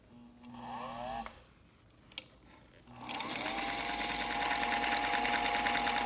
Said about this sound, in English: My wife will sew on it and let you see exactly how it does.